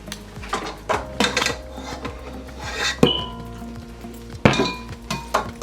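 A utensil scrapes and clinks against the sides of a mixing bowl of strawberry cupcake batter, in irregular close knocks and rubs with sharper clanks scattered throughout and no talking.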